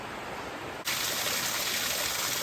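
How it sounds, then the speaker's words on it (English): A river with rapids on the Appalachian Trail rushes in a steady broadband roar, close and full, that jumps suddenly louder partway through and holds. "I just love all the sound of the rushing waters and all the rapids."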